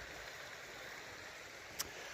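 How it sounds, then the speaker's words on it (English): A small, clear river flows steadily as a soft, continuous broadband wash, with one brief sharp tick near the end. "Lovely little river here."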